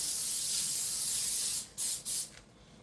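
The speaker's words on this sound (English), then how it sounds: "I have like a veggie oil spray. I'll spray it down." A close, loud aerosol hiss of vegetable oil cooking spray on a sheet tray runs continuously, then breaks into a few short bursts before stopping.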